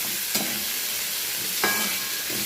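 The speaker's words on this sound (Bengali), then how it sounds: "বেশ লাল লাল করে পেঁয়াজটাকে ভাজবো।" Onion frying in hot oil in a wok, a steady broadband sizzle running throughout with two brief stir scrapes, close and fairly loud with no voices.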